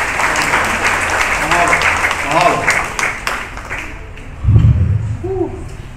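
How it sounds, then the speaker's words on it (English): An audience at a community forum on Hawaii's future claps in a full round of applause while a voice speaks briefly over it; the clapping stays broad and continuous, then thins toward the end. "Just by a round of applause, can we agree to that?"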